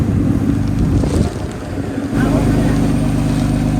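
Wind buffeting across open sea aboard a fishing boat, a continuous rough rush with low rumbling gusts, the roar dipping briefly then swelling again.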